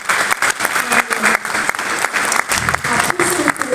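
Audience applause at an Easter celebration event: dense, steady clapping from a crowd, loud and continuous throughout with slight swells.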